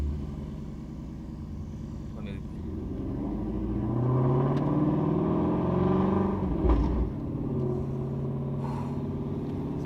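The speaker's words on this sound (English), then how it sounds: "Car is rumbling and vibrating a lot more though." Low, loud engine rumble from a Ford Mustang Shelby GT350 with a cat-delete exhaust, idling and swelling slightly with a deep steady drone and faint vibration, close by and continuous.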